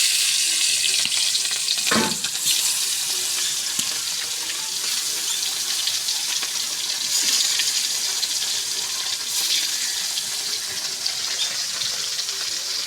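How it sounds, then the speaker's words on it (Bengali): Fish frying in hot oil in a home kitchen, a steady dense sizzle running throughout with a brief sharp crackle near the start, no voices. "তেলটা একটু গরম আমি মাছটা ছাই দেবো"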